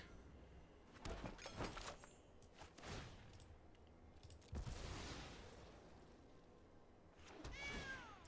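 A cat meows several times in short, separate calls, the clearest ones near the start and end, heard against quiet room background with no talking.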